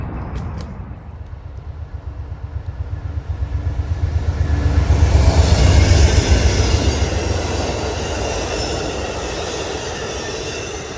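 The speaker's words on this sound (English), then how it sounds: "the train flying by at like 50 miles an hour" A train rushes past close by at about 50 miles an hour, its rumble and rhythmic wheel clatter swelling to a loud peak, then slowly fading as it continues.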